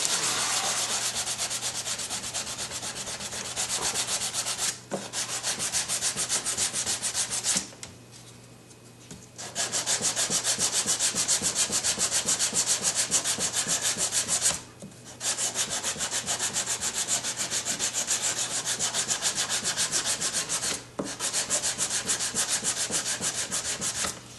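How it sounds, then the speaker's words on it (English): A sandpaper block rubs back and forth over plastic in a continuous, loud, close rasping, broken by a few brief pauses between runs of strokes. "your sandpaper tends to get plugged up with this plastic, so you have to clean it a little bit"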